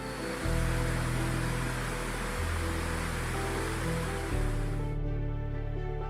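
Roaring torrent of water falling into a steep-walled basin, a dense, loud continuous rush that surges and steps in intensity before cutting off near the end.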